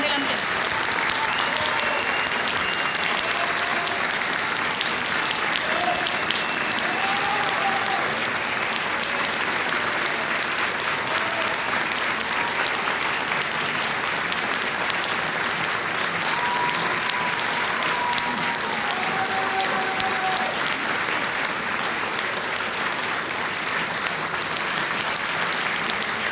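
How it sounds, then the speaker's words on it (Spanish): Sustained, dense applause from an indoor crowd at La Moneda greets Víctor Pérez, the ex-interior minister, holding loud and steady throughout with faint voices mixed beneath. "Aplauso cerrado entonces"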